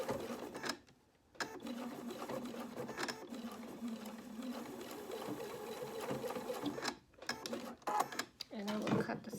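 A sewing machine runs in long bursts while stitching a polo shirt, a fast, close mechanical whir broken by short pauses, with a few quieter clicks near the end.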